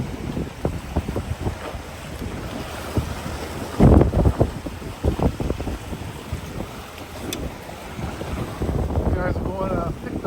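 Strong wind buffets a small fishing boat off Fort Lauderdale, Florida, roaring steadily against the microphone with gusty bursts and water slapping the hull, while voices talk briefly over it.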